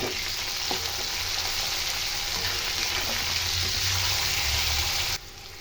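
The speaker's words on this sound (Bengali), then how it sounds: "ফুলকপি দিয়ে আবার ভেজে দেবো।" Potatoes and cauliflower fry in a pan of hot oil, a strong steady sizzle with soft stirring scrapes and one brief knock, holding close and loud before dropping off abruptly near the end.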